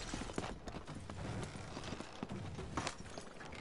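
Horse hooves clip-clop steadily as a horse-drawn wagon rolls past in the video game Red Dead Online, a continuous rhythmic clatter of many hoof strikes at moderate distance.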